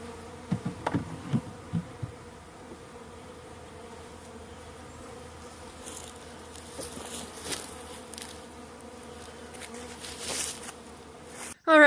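Honeybees freshly installed from a package into their hive hum in a steady, close drone, with occasional louder passes of single bees and a few faint knocks.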